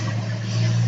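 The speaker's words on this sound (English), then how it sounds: "the car is driving by my window. It's really loud in the recording." A car drives past outside a window, a brief loud, steady low rumble with a constant hum underneath.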